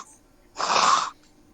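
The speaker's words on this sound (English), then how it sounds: "I gotta blow my nose." A person blows their nose once in a single short, forceful nasal burst of about half a second, close and fairly loud against a quiet background.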